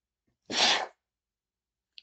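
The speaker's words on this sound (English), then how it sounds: "I don't know what brought the sneeze" A single loud, sharp human sneeze bursts out indoors, brief and alone, followed by quiet and a tiny click.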